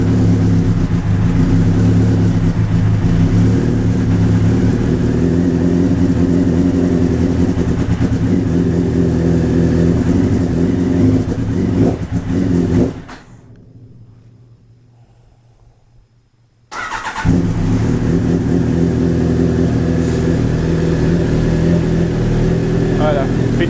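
A Honda CBR motorcycle engine runs loud and close at a steady, throbbing idle. It cuts to near silence for about four seconds, then the same rumble resumes.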